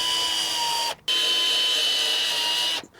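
Cordless power screwdriver driving screws into a plastic shed base, a loud steady whining motor run that stops briefly near one second, then resumes for a longer stretch before cutting off.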